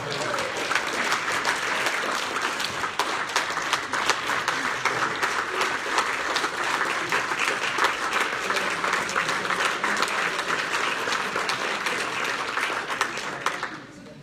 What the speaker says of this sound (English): let's have a round of applause for these